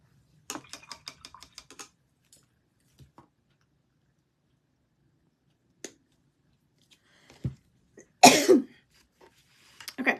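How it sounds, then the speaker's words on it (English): A sharp cough bursts out once in a mostly quiet room, preceded by faint clicking taps and a few soft knocks. "I'm so sorry for the coughing and the scratchy throat"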